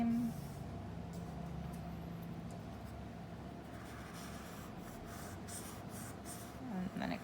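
A pencil draws curves on paper, a steady soft scratching and rubbing that continues throughout, close and quiet, with faint background hum.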